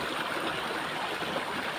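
River water flows steadily and broadband without a break, a continuous close rushing wash with no voices over it.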